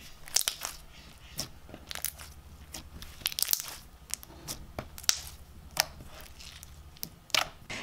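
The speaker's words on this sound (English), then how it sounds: "It had amazing bubble pops and thick beads and sprinkles" Thick slime studded with beads and sprinkles is squished and popped, giving close, irregular crunchy pops and wet squelches, with no talking.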